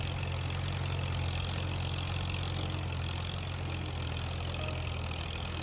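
Tractor engine from a 1962 classic farming game mod idles in a steady, low, unchanging drone with faint background hiss, no voices present.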